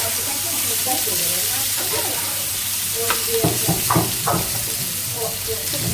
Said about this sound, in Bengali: মশলা কষাই আর এই যে তরকারিটা কষানো হচ্ছে